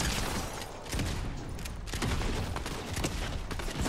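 Video game gunfire rattles in dense rapid bursts, loud and close, with heavy booming shots layered together and a brief lull near the start before the barrage resumes.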